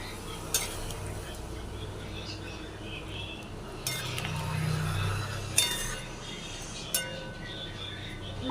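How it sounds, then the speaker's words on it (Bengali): Rui and katla fish curry tipped from a pan into a serving pot, with scraping and several light metallic clinks of a utensil against the cookware in a quiet kitchen. "এরপর আমি একটা যে পাত্রের মধ্যে পুরো রান্নাটা ঢেলে নিচ্ছি"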